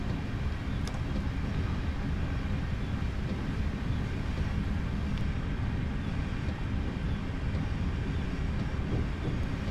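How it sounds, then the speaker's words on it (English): A simulated train in Train Simulator 2015 coasts on rails toward Glasgow Central Station, giving a steady low rumble and rolling wheel noise at moderate loudness with no speech. "I'm just going to allow the train to coast in towards Glasgow Central Station."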